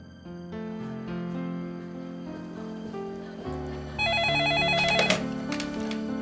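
An office telephone rings indoors in a domestic drama, its repeated electronic trill rising loud over a soft musical underscore, with the ringing growing brighter toward the end.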